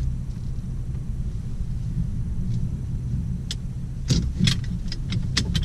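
A car shifts into reverse and moves off under a steady low engine rumble, with sharp clicks and taps late on, heard from inside the car without talk.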